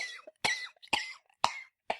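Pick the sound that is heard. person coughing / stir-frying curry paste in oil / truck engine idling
person coughing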